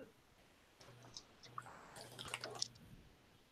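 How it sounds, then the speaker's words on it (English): Food being chewed close up, with soft wet squishes and small clicks of the mouth; quiet and without talk. "Trying to talk while I'm chewing."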